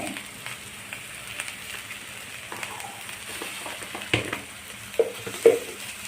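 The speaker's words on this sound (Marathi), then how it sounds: "व्यवस्थित परतून घेणे" Radish leaf bhaji sautéing in a pan with turmeric, salt and ginger-garlic-coriander paste: a faint, steady sizzle with scattered soft scrapes and taps of stirring, a few sharper clinks near the end.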